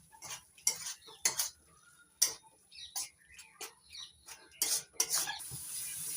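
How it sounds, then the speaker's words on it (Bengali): Chopped capsicum being stirred with spices in a pan for a vegetarian potol paneer dish, heard as a series of sharp utensil clinks and scrapes at irregular intervals, fairly close, with no talking. "ক্যাপসিকাম কুচি একটু নাড়াচাড়া করে কষিয়ে নিচ্ছি।"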